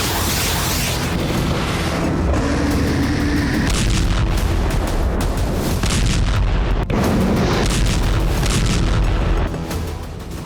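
Heavy booming from Ukrainian Flamingo and Russian Iskander missile strikes rolls on without pause: loud, dense blasts and rumbling that fill the whole stretch before easing off at the end.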